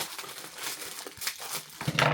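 Scissors snipping open a plastic package from a Temu order, close crinkling and rustling of the packaging with a sharper cut near the end, no voices.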